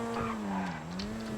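A car in the video game GTA 5 revs and skids, its tires squealing in a wavering whine over a droning engine, brief and close.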